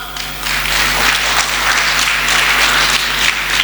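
A church congregation breaks into loud, sustained applause, a dense wash of many hands clapping together under a steady low hum.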